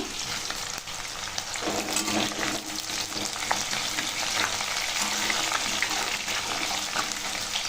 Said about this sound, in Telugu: ఈ ఎల్లిపాయలు మంచిగా గోల్డెన్ బ్రౌన్ కలర్ వచ్చే వరకు వేయించుకోవాలి